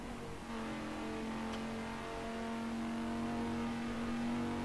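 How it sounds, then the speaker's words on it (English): A steady race car engine drone from a simulated 12 Hours of Spa race runs continuously with a mild rise in pitch, moderately loud and with no talking over it. "It's actually a really great sounding car."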